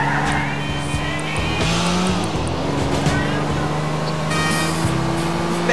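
Car engine droning steadily while driving in the video game GTA IV, with tire squeal and revving swells over a loud continuous game soundscape.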